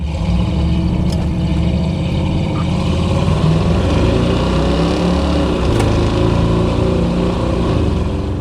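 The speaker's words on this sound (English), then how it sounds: "With the exhaust setup on this one where the tips are dumped, it just sounds good" Loud, constant engine drone from a 1991 Chevrolet 454SS truck with dumped exhaust tips, heard from inside while the truck is driven hard, a rumbling exhaust note holding steady throughout with no talking.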